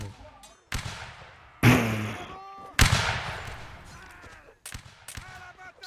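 Video game battle gunfire, a series of loud sharp shots and crackling volleys, some close and some trailing off with echoing decay, with people talking over the action.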